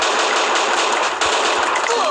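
Rapid automatic gunfire from the Free Fire battle royale game, a dense burst of shots rattling continuously at close range with a brief gap midway, loud and dominant.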